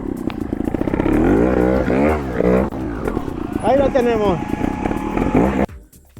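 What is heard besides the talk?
trial motorcycle engine revving while turning in sand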